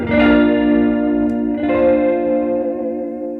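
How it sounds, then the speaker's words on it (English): A Strymon Mobius pedal puts a lush chorus on a sustained guitar chord, which rings out shimmering and wavering, then a second strum rings again and decays. "Mobius, here's some little chorus."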